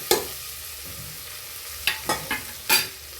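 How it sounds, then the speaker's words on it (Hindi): Vegetables frying in hot oil in a pan for sambar, with a soft continuous sizzle and a few distinct scraping stirs of a spoon near the end, no talking. "इसको थोड़ी देर के लिए हम तेल में ऐसे घुमाएंगे, और उसके बाद हम इसमें मसाले डालेंगे।"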